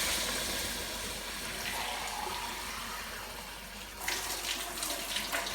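Water poured steadily into a cooking pot of beef paya (trotters), a continuous rushing splash that grows louder and brighter near the end, with no talking.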